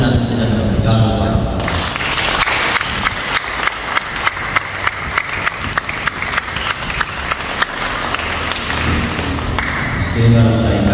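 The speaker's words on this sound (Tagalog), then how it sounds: "masalubungan natin sila ng sigawan" Wedding guests cheer, shout and applaud loudly and continuously to welcome the bride and groom, a dense roar of voices and clapping filling the hall for nearly the whole stretch.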